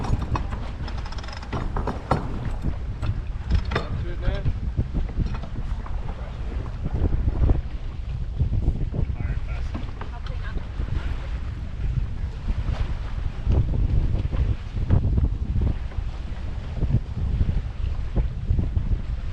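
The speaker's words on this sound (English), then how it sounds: "This is the start of a long tacking duel all the way up the course." A DS 37 sailboat in a match race tacks upwind, with strong wind buffeting the microphone, water rushing past the hull, and rustling and thumps from the rig and deck, loud and continuous.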